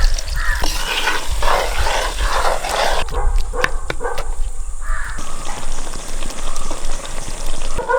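Water hits frying masala of ground fennel and chopped tomato for a Kerala-style egg roast curry, giving a loud sizzling, bubbling burst with stirring, while a dog barks and crows caw nearby.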